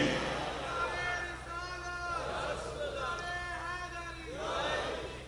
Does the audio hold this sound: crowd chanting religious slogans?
yes